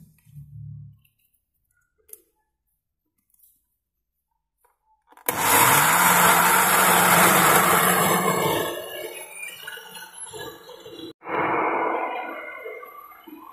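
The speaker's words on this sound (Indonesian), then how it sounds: "kita blender sampai halus" After a few faint clicks, a blender roars to life loudly, grinding peanuts hard for several seconds, then its pitch shifts, it briefly cuts out and starts again.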